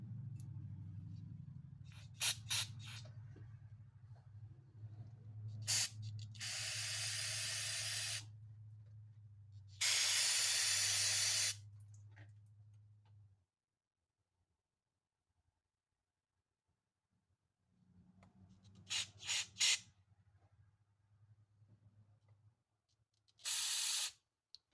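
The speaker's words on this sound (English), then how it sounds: "pretty much what we're doing here is just blowing that carb cleaner through any of your little passages in there" Carb cleaner sprays in loud, close hissing blasts through the passages of a Homelite XL-12 chainsaw carburetor, several bursts of varying length separated by quiet gaps, with a low hum beneath.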